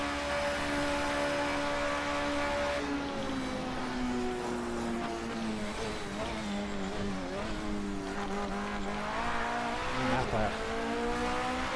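Porsche 919 Hybrid LMP1 prototype racing car in Project CARS 2 at Le Mans, a steady high-pitched engine drone with shifting revs through corners, loud and continuous, with some talk faintly underneath.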